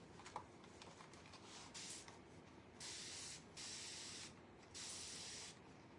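Four quiet hissing bursts from a spray bottle, each lasting about half a second, spaced a little apart with faint rustling between them.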